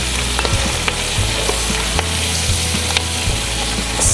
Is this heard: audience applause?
no